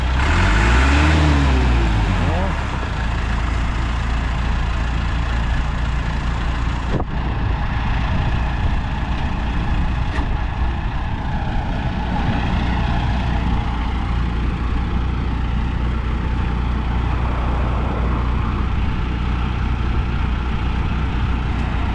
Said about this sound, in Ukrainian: Все, комбайник з'їхав.